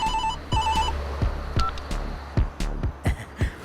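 A wireless home telephone in a Hindi-dubbed South Indian film scene gives a few short electronic ringing beeps, followed by a series of dull thumps and knocks under a low background hum.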